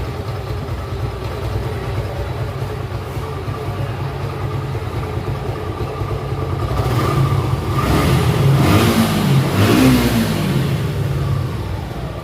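A vehicle engine idles steadily, then revs up louder for a few seconds before settling back down, heard close with no talking.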